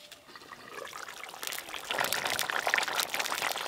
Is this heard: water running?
yes